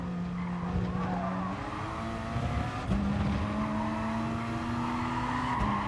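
Race cars streaming past on the Catalunya track in GT Sport, with sustained engine drones shifting pitch as several cars pass close by, plus tyre squeal, continuous and loud.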